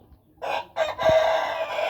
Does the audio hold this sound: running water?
no